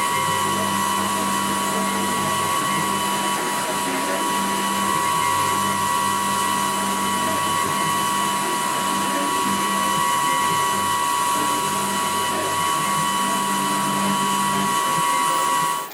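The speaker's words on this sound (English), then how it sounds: "I did a roughing pass, or at least a 4mm step down, so it took off the bulk of the stock" Milling machine cutter taking a 4mm step-down roughing pass on metal stock, a loud, continuous high-pitched whine with steady tones running nearly unbroken for the whole stretch before cutting off abruptly.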